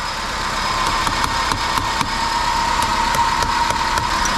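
A car engine idles steadily at close range to recharge a flat battery, a continuous mid-pitched hum with a faint regular ticking running through it, no voices.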